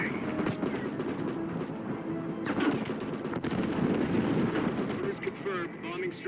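Machine gun fire in the video game Call of Duty Black Ops Cold War, with rapid bursts running steadily throughout alongside other battle noise.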